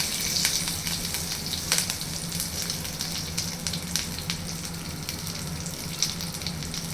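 Cumin seeds, dried red chillies and curry leaves frying in hot oil for an Indian egg fry, giving a steady, close crackling sizzle with scattered sharp pops throughout, no voices.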